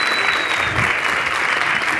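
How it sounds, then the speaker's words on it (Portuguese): Steady, dense audience applause at an ONM Talks event, many hands clapping continuously and evenly for the full length, fairly loud and close, with no voices over it. "Salva de palmas, seja muito bem-vinda."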